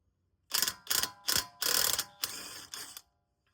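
A socket wrench ratchets on rusty front wheel bearing bolts in five sharp, clicking bursts of varying length, close and clear against a quiet background.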